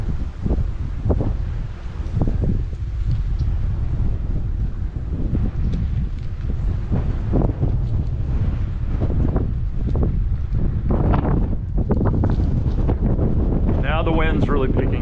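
Strong gusty wind roars across the microphone on an old wooden plank bridge over a century old, a constant heavy rumble with buffeting swells throughout and someone talking underneath.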